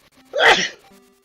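A single close, loud sneeze bursts out in the middle, lasting about half a second, with faint room sound before and a quiet voice murmuring just after, during a Link's Awakening DX tournament stream.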